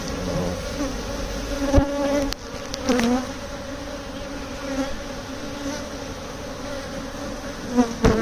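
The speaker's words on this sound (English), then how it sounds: "This is a lot of bees, man." Dense, steady buzzing of a large spring swarm of honeybees being transferred into a Layens hive, close and continuous, with a few brief knocks and thumps breaking through.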